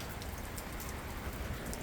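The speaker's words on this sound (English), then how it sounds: "it's pouring rain outside" Heavy rain pouring down outside beside a 4Runner converted into a tiny camper, a dense, constant hiss of drops striking surfaces, steady and close throughout with no voices.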